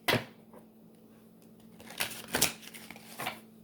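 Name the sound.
shuffling a deck of cards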